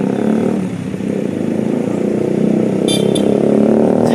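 A Mercedes-Benz single-glass jeep, a former Zippo unit now running as Bintang Malam, rolls past with a steady, loud engine drone and some clatter, the roar swelling slightly toward the end.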